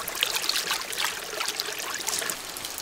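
Clear mountain stream water trickling and babbling steadily in a cold rural valley, a continuous bright splashing wash at close range with no voices.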